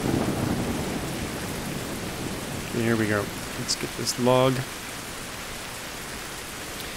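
Steady rain hisses throughout in a survival video game, forming a constant broadband wash, while someone speaks briefly over it midway.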